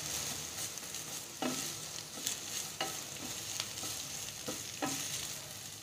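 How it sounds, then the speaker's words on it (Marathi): Bitter gourd and sliced onion stir-fry in a pan for karela sabzi, a steady sizzle broken by several sharp spatula scrapes and knocks against the pan, with no talking. "त्यामध्ये आता आपण स्लाइस केलेला कांदा घालूया आणि चांगलं मिक्स करून घेऊया"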